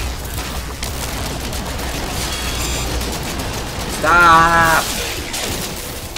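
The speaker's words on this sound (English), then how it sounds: "Stop shooting me!" Steady crackling gunfire in the No Man's Sky video game runs continuously under a shouting voice, with a brief whining mechanical tone rising midway.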